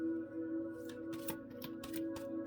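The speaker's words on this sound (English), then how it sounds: "I'm going to pull cards and then I'm going to read energy." Tarot cards being shuffled and pulled from a deck, a quick run of soft papery flicks and riffles close by over a low steady hum.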